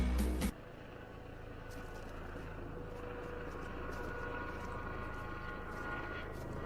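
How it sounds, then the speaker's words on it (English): A distant video game helicopter drones steadily with a low rumble and faint rotor chop, following a brief loud burst at the start. "Helicopter."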